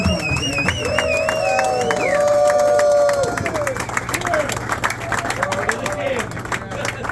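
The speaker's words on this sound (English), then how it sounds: "One more big round of applause" Crowd at a men's curling bonspiel banquet applauding and cheering, steady dense clapping with whoops and voices for several seconds, then tapering into a lighter scattered patter.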